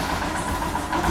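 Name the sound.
Royal Enfield Himalayan motorcycle engine starting and idling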